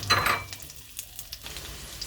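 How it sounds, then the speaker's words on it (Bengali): Potatoes fry in hot oil tempered with spices, making a short burst of sizzling and stirring up close, with a few light scrapes and clicks as they are moved around the pan. "আলুটাকে একটু ভাজা ভাজা করে নেব।"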